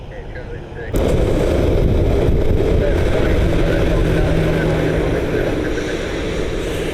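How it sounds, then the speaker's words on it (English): A Southwest airliner taxiing quickly to its gate gives a loud steady jet engine roar that starts abruptly and holds throughout, with a faint whine running along it. "Southwest taxiing quickly into its gate."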